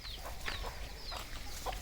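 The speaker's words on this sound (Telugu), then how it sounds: "కోళ్ళన్నీ చూడండి ఎలా గుంపులు కూడుకున్నాయో పెద్ద పెద్ద పుంజులండి" Chickens and large roosters gathered in a flock on a farmhouse yard, giving short, scattered clucks against a steady low background hum.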